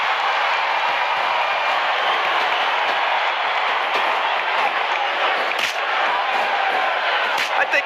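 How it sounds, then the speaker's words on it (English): A wrestling arena crowd in a WWE video game roars with a loud, continuous wash of cheering and applause, dense and unbroken throughout. "Sounds like this crowd's got something on their minds, King."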